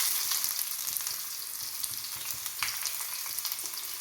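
Fenugreek seeds fry in hot oil with a dense, steady hiss and fine crackling, close and fairly quiet, with no voices.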